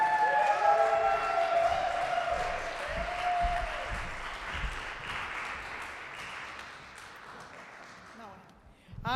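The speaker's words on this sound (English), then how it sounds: "another round of applause for Amy." A comedy club audience at a live stand-up show breaks into applause and cheering, loud at first and gradually thinning out over several seconds before picking up slightly again at the end.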